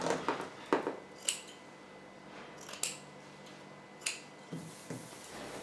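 Scissors snip fabric corners for a reversible flamenco dress ruffle, making a series of faint, crisp, separate cuts spaced irregularly in a quiet room.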